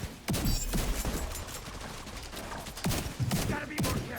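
Bursts of video game gunfire crack out in scattered volleys, some close and loud, others further off, with a voice talking faintly underneath.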